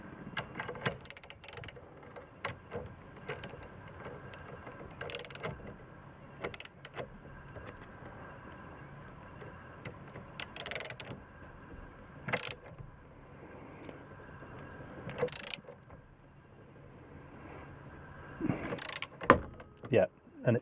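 A puller is fitted and worked on the steering wheel of a Lotus Excel during dashboard removal, giving intermittent bursts of metallic ratcheting and clanking between quieter stretches, with some speech nearby.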